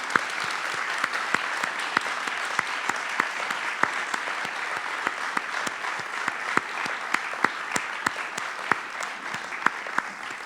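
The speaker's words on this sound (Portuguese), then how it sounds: "Uma salva de palmas para o Luís Miguel por tudo isto." An audience at a Portuguese cinema event opening applauds a guest, dense steady clapping with sharp individual claps popping out, sustained evenly for about ten seconds with no talk over it.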